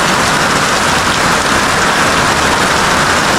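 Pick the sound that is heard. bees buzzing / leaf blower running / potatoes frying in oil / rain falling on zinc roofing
rain falling on zinc roofing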